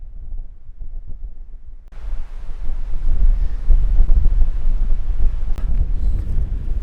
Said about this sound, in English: the wind noise is probably going to be terrible